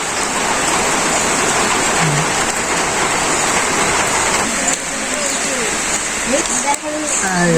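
Steady, loud rainfall hisses without a break, and a faint voice briefly surfaces beneath the downpour near the end.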